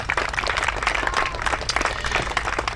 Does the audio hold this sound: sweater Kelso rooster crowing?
no